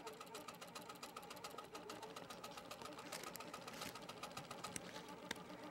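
An HQ Pro-Stitcher computerized quilting machine stitching a flower petal pattern, its needle drive giving a fast, even mechanical hum with rapid regular clatter that holds steady throughout, close and moderately loud.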